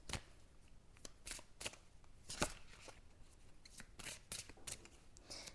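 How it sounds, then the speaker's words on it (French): Tarot cards are handled and laid down on a table in a series of quick crisp snaps and flicks, about a dozen close sharp card sounds spaced through a quiet background. "Et je vais poser une carte sur le nouveau départ."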